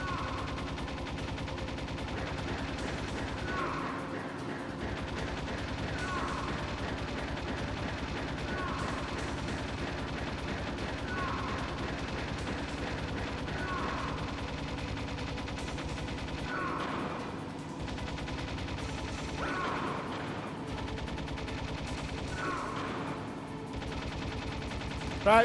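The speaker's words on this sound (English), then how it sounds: "Great having a machine gun turret on the back of the Jeep." Sustained machine gun fire from a Jeep-mounted turret in the Metal Gear Solid video game, a continuous rattling barrage with periodic heavier bursts, layered over game music and intermittent talk.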